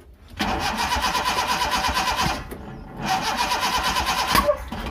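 A worn Suzuki Carry 1.0 engine with a bad camshaft cranks and revs as it struggles to start, giving two long loud bursts of churning cranking and sputtering with a short pause between them.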